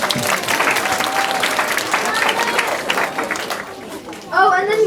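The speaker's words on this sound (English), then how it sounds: "Can we clap?" A group of children at a parish vacation Bible school camp gathering break into lively applause with scattered cheers, and an adult voice speaks near the end as the clapping fades.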